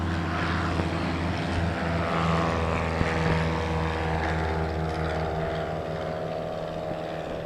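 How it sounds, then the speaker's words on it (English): A propeller plane takes off at an airport where skydiving is underway, its engine droning loudly and steadily with a low rumble and slowly shifting pitch as it climbs away. "that was another plane taking off"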